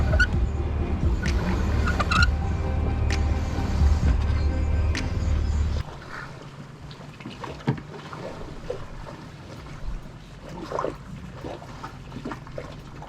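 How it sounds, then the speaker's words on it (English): The sailboat One Life motors out of an anchorage in French Polynesia, its engine a steady, fairly loud drone with water splashing for several seconds before the engine noise drops away, leaving quieter water sounds and occasional knocks. "We motored out of the anchorage and pointed One Life toward her next destination."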